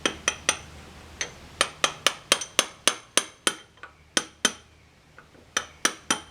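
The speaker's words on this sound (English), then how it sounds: "I'm going to start by just kind of tapping it with this contraption here." Sharp metallic taps of a tool on an engine seal of a Detroit 671 sawmill engine, struck one after another at an uneven pace, close up and ringing briefly, with no talking.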